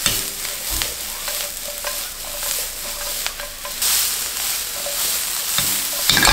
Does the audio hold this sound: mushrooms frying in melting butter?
yes